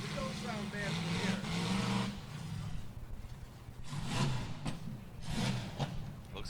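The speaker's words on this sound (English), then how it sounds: "On the track now is the raffle car, being driven by Tommy Dowd. That's a 75 Cadillac." A 1975 Cadillac raffle car drives around a dirt race track at a crash and jam festival, its engine rumbling low and steady, rising and falling as it passes, with commentators talking over it.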